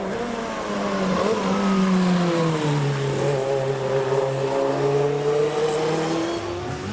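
A classic race car engine runs at the Goodwood Festival of Speed, a loud, steady, close drone whose pitch slides and shifts as it revs, heard alone without talk.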